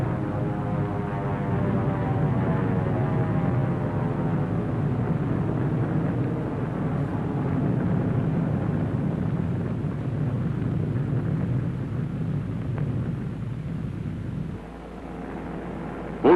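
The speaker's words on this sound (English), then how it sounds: "Here is one of the drone airplanes flying over the target fleet after the blast." A drone airplane flies over the target fleet at Bikini after an atomic blast, its engine a loud, steady, tonal drone that holds for most of the stretch before easing lower near the end.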